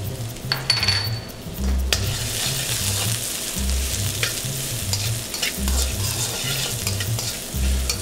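Garlic and green onions sizzle in hot oil, stirred with a spatula that scrapes and taps the pan in a regular rhythm. The frying hiss stays close and steady throughout.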